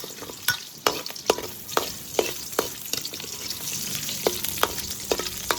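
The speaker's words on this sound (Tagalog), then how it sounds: "igisa natin yung mantika sa bawang, luya," Garlic and ginger sauté in oil as a continuous close sizzle, punctuated by regular sharp clicks of a utensil scraping and stirring the pan. No voices.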